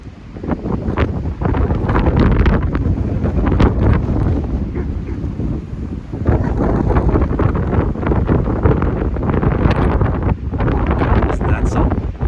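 Strong storm wind in Wells, British Columbia, amid rain and hail, roars loudly and continuously against the microphone in buffeting gusts, with no talk over it.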